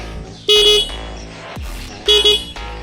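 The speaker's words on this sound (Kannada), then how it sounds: "ನೆಕ್ಸ್ಟು ಹಾರ್ನ್ ಹಾರ್ನ್ ಯಾವ ಥರ ಇದೆ ಅಂತ ಕೇಳಿಸ್ಕೊಳೋಣ" Horn of an Aprilia Tuono 457 motorcycle sounds in two short steady honks, loud and close, with a brief mechanical clunk between them and no talking.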